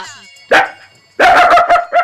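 A human voice imitates a dog barking, giving two separate groups of loud, voiced bark-like yelps in short bursts, with a brief quiet gap between them.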